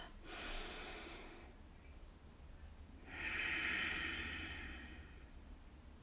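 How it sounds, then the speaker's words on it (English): Two slow, deep breaths taken close to the microphone during a self-massage session for the neck and jaw: a long airy inhale followed by a stronger, hissing exhale, soft and alone with no talk. "Take a nice deep breath."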